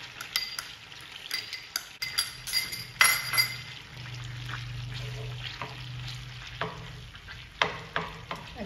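Chiles de árbol and garlic cloves fry in a pan for butter fish fillets, giving a steady close sizzle broken by repeated sharp clinks and scrapes of a stirring utensil against the pan.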